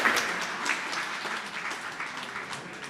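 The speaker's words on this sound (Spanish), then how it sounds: "Bueno, pues vamos a dar un fuerte aplauso." An audience at a pesticide safety training session applauds, a steady wash of many hands clapping that holds for about three seconds at moderate level, with no voices over it.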